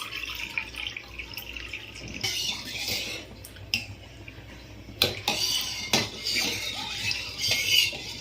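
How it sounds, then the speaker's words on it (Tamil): Water is poured from a cup into a pot holding agar for a two-ingredient Eid sweet. Splashing and trickling mix with clinks and knocks of the cup against the metal pot, close by and moderately loud. "இப்போ 4 கப் தண்ணி ஊற்றி இதை நல்லா கரைய விடணும்"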